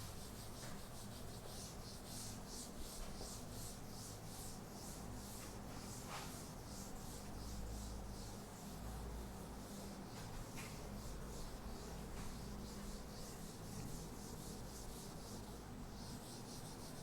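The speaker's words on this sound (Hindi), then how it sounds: "चलिए तो इसको मैं रब कर देता हूँ।" Writing is being rubbed off a board with a steady, quiet scrubbing and wiping sound that continues in rhythmic strokes throughout, faint and without any talking.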